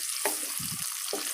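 Onions drop into hot cooking oil and ghee in a pan, bringing a close, steady hiss and sizzle with brief stirring clatters for aloo gobi.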